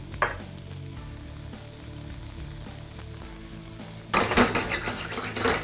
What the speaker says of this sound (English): All right, fry it up.